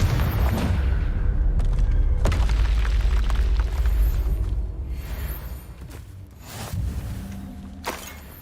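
The Confringo spell in Hogwarts Legacy detonates in deep, rumbling booms, one after another, with a heavy explosion sustained for several seconds before quieter blasts and crackles follow.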